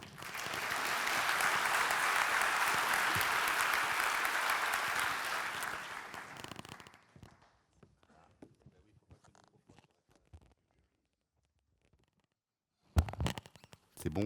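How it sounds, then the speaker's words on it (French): An audience at a Friday keynote conference bursts into loud, dense applause that swells for several seconds, then fades into scattered claps, small knocks and rustling, with a few sharp thumps near the end. "Un grand applaudissement."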